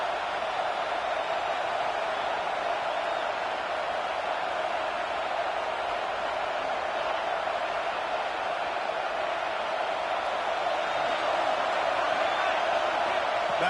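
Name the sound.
home crowd cheering in a football video game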